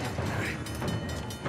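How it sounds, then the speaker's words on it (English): A train approaches in the video game Uncharted: The Lost Legacy, a brief, dense rumbling clatter of rolling rail noise at steady loudness. "train's getting closer."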